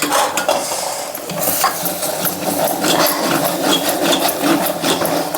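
Gongura chutney stirred in a pan with a spoon: steady, close scraping and wet churning runs throughout, loud and busy, with no voices over it.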